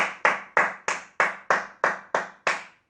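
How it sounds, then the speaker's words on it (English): Nine sharp, evenly spaced hand claps counted out during a primary maths lesson, loud and close with short gaps and no talking over them. "Clap them out."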